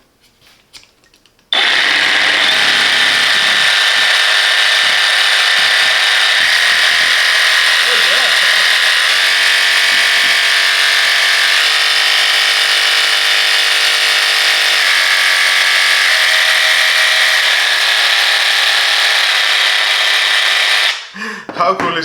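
A Parkside Performance 20V cordless sabre saw, model PSSAP 2028 B2, running at 2000 RPM. A loud, steady electric whine starts abruptly and holds for about twenty seconds before cutting off.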